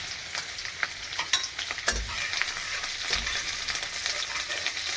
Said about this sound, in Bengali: আমি গাজর, মটর, বিনস কুচিয়ে রেখেছি, কেটে রেখেছি, আর একটু আলু, এটা দিয়ে দেবো